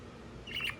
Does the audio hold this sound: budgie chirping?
yes